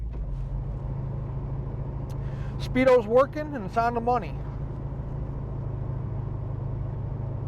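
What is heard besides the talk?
1979 Pontiac Trans Am driving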